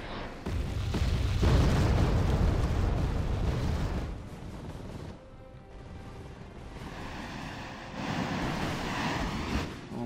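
Artillery fire in the strategy game Wargame Airland Battle, with heavy rumbling blasts and roaring booms that swell loudly, ease off briefly, then rise again.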